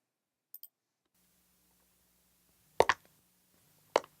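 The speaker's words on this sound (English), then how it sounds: "it's going to sound like she's walking from the left to the right" Two soft footsteps, a short pause, then a third, crisp and close against a faint low hum, with a tiny click near the start.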